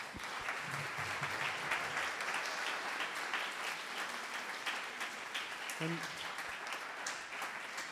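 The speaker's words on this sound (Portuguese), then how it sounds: "Eu peço uma salva de palmas." A seated audience at a design, leadership and innovation talk gives a steady round of applause that lasts several seconds, with a brief voice partway through.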